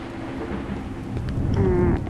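Rumbling thunderstorm in the horror game Cry of Fear, a low continuous roll of thunder with rain-like hiss that swells slightly toward the end, heard alone without voices.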